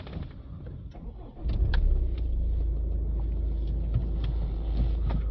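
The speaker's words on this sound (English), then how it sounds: "We're going to start the engine up on the vehicle here." A Ford Focus ST diesel with a DPF and exhaust temperature fault codes cranks and fires up after a quiet stretch, then settles into a steady, low rumbling idle close by.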